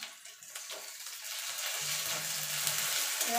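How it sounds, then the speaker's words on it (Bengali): Ginger-garlic paste fries with onions in a pan, giving a steady close sizzle and hiss that swells gradually, with occasional light stirring noises. "আদা রসুনটা একটুখানি হালকা করে ভেজে নেব"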